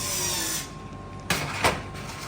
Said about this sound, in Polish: Nawiercamy to wiertełkiem 2 mm.